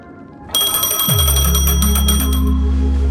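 A phone rings in the video game Honkai: Star Rail, a loud, steady electronic ring with bright sustained tones joined by deeper layered notes that step in partway through.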